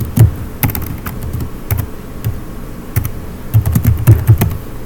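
Computer keyboard typing during a robotics class, a burst of sharp, fairly close keystrokes in an irregular rhythm, clustered near the start and end with quieter gaps between.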